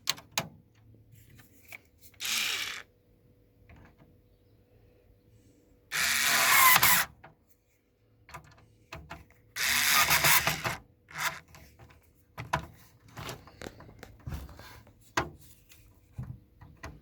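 Power drill driving screws into the cover of a Samsung OS7100 fan, with several short whirring bursts separated by quiet pauses and small handling clicks.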